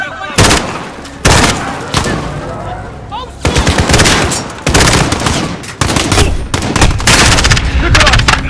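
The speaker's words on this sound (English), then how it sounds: "The gunshots, of course." Rapid bursts of automatic and single gunfire in Call of Duty: Modern Warfare (2019), loud and close, coming in heavy clustered volleys separated by brief gaps, with shouted voices mixed in.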